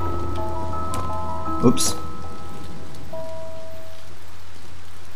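Soft steady rain patter in the video game A Bird Story fills the background beneath sustained game-like tones, with a sudden thump and brief exclamation partway through.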